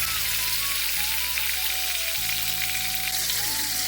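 Pieces of fish fry in hot oil with a continuous, even crackling hiss. The sizzle stays close and steady from start to finish, and faint tonal background sounds drift underneath.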